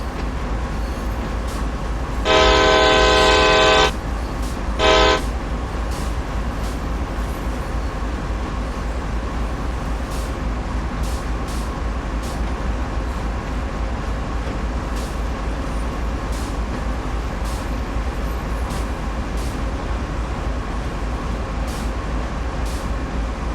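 A freight train in the Train Sim World 3 game rolls slowly past a loading chute with a steady, even rumble, broken early on by two short, loud tonal signals.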